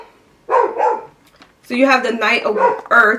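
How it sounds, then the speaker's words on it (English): A dog barks a couple of times close by indoors, then a person talks while the barking fades into the background. "Sorry about the dog, you guys."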